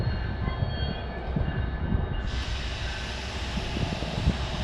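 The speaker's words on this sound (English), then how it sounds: "Mixture of Metro North and New Jersey Transit cars pulled by a New Jersey Transit engine." A New Jersey Transit engine pulls a mix of Metro North and New Jersey Transit cars through a New Jersey station, a steady loud rumble and rattle of passing railcars with a slight brightening midway, no voices.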